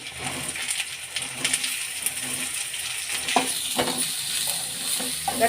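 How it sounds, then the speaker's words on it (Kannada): Onions and curry leaves frying in a pan for soya chunks keema, with a continuous loud sizzle and irregular metallic clinks and scrapes of stirring close by, no talking. "ಚೆನ್ನಾಗಿ ಫ್ರೈ ಮಾಡ್ಕೊಳ್ಳೋಣ ಈರುಳ್ಳಿ ಚೆನ್ನಾಗಿ ಬಾಯ್ಲ್ ಆಗಬೇಕು ಅಲ್ಲಿವರೆಗೂ ಹುರ್ಕೊಳ್ಳೋಣ"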